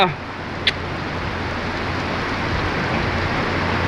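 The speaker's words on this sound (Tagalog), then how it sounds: "Sobrang lakas ng ulan. It's raining!" Heavy rain pours during a trip on an inter-island passenger ship in the Philippines, a loud, steady broadband roar that grows slightly stronger over the clip, with a brief knock near the start.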